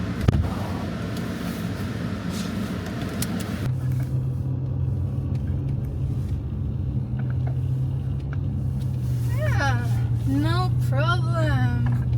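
A car fitted with spiked tires climbs a snowy, icy hill, its engine rumbling steadily and the studs crunching throughout; near the end the pitch rises as it strains harder while people talk over it.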